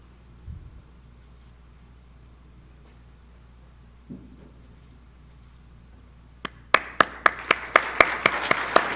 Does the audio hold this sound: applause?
yes